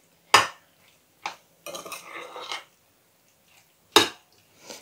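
A spoon clinks and scrapes against a bowl while a cauliflower gratin mixture with ham and cheese is stirred, a few sharp separate knocks with a short wet mixing stretch between them.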